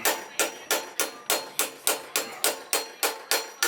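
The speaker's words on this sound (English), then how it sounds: "I'm going to go ahead and hammer that up." Steady hammer blows ring out on metal while bending a DIY motorcycle wheelie scrape bar, about three strikes per second, close and sharp, each with a brief metallic ring.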